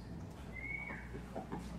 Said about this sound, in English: That was half a whistle.